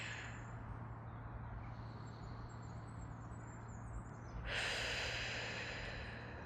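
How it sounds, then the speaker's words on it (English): A slow, steady breath drawn in through the nose, then a louder, airy exhale through the mouth near the end, close and quiet. "just inhale through the nose and exhale through the mouth"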